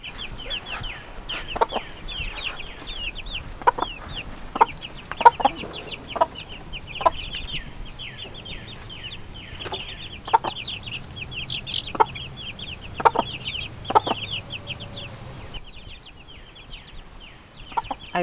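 A broody hen clucks steadily to her young chicks in a coop, her low, repeated clucks sounding close and clear over a constant chorus of thin, high chick peeps, with no talking.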